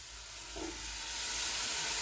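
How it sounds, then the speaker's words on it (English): Onions, ginger and scotch bonnet pepper sauté in a pan, giving a soft hiss and sizzle that swells gradually louder over a couple of seconds. "once we allow the onions, the ginger and the scotch bonnet to saute for a minute"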